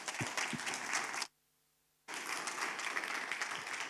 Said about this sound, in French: je vous demande de m'aider à applaudir toute cette équipe.